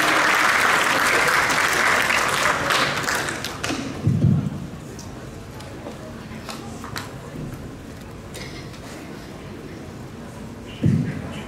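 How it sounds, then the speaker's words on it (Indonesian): Audience applause after a musical poetry performance, a dense burst of clapping for the first few seconds that thins and fades, with a few scattered thumps later. "Mari kita berikan apresiasi, tepuk tangan yang meriah untuk menyanyi"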